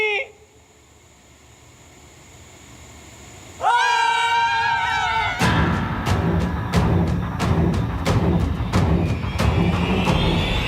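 Several people scream in fright during a supposed ghost scare: a loud, wavering, shrill cry lasting over a second after a quiet tonal stretch, then dense noisy clatter.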